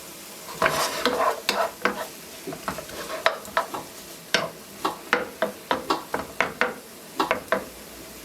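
Apples being stirred in a frying pan, a steady sizzle under repeated quick scraping and clacking strokes of the utensil against the pan, close and busy throughout, with no talk.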